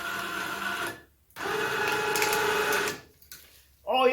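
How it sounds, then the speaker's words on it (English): A winch motor on a Honda Fourtrax 200 ATV paying out cable whines steadily in two close bursts separated by short pauses, and a voice starts at the very end. "Let my winch out."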